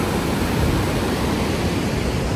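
Niagara Falls on the US side sends up a constant, dense roar of rushing water, heard close and loud with no letup.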